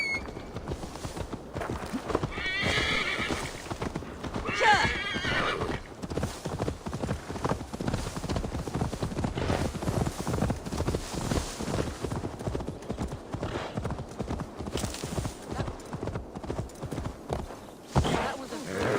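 Horse hooves clip-clopping on the ground in the Assassin's Creed Valhalla video game, a steady walking rhythm up close with a brief whinny, while characters speak over it.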